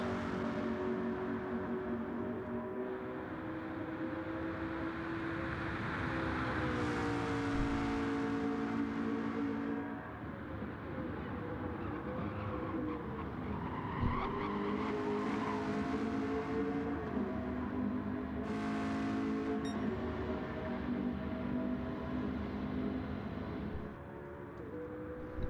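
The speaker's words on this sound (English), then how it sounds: "Some drivers getting their final practice laps here before we start the race" Race cars running practice laps on a track, engines droning continuously with rising and falling pitch as they accelerate and pass, loud and sustained.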